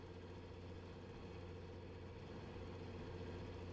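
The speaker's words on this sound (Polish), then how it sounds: "troszkę wolno może ten ciągnik będzie jeździł, bo nie jest naprawiony" Tractor engine in Farming Simulator 19, driven slowly while unrepaired during liming work, giving a steady low droning hum with a constant tone, continuous and fairly close throughout.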